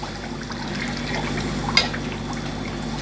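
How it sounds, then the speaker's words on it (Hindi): Tomato mixture pours into a pot of Indian soup, a steady wet trickling stream with a brief brighter splash partway through, close and alone. "और साथ में डाल देना है टमाटर का घोल"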